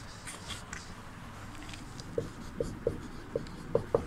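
A pen writes a question on a surface, giving a series of short scratchy strokes and taps that grow more distinct toward the end, over a steady background hum.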